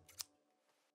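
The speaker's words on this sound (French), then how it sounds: "les ciseaux font le boulot." Scissors make one quick, crisp snip up close, followed by a faint fading rustle in an otherwise quiet moment.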